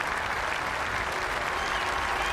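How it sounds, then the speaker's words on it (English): Sustained applause from a large golf gallery at The Open at Royal Liverpool for Chris DiMarco as he finishes second, a dense, steady wash of clapping close and loud throughout. "listen to the applause for Chris DiMarco"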